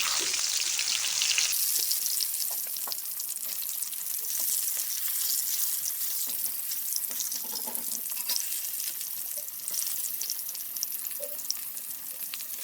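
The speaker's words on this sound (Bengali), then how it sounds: "এবার পটলগুলো একটা একটা করে ভেজে নেব।" Pointed gourd (potol) pieces frying in hot oil in a wok, a bright, crackling sizzle that starts abruptly and carries on evenly, close and moderate, with faint clinks of handling and no speech.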